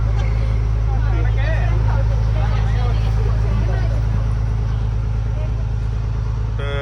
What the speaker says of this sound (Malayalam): നമ്മളെ ബോട്ട് ഇതാ പോവുകയാണ്